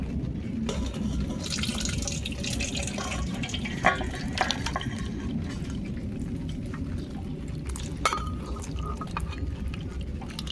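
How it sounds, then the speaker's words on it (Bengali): Rohu fish curry broth in oil poured from a pan, a steady wet trickle and splash close by with a few small clinks of the pan, no voices. "নামিয়ে নেব এখন ঝোল ঢেলে নেবো"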